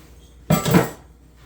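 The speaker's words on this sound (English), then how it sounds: "We've got our jars out of the boiling water, ready to fill them." A single short clatter of glass jars, just out of boiling water for jam, knocking together, close and bright, then quiet.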